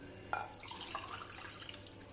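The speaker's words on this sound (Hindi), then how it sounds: "1 कप पानी डाल दूंगी मैं एक पैन में" Water running from a tap or poured into a pan while making jelly in a home kitchen, a steady close splashing flow that starts with a sharp onset and continues without talk.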